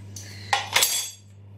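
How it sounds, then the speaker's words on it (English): A whisk clinks against a bowl of brownie batter in a home kitchen, two brief scraping, tapping bursts close by over a steady low hum, with no talking. "and then whisk again"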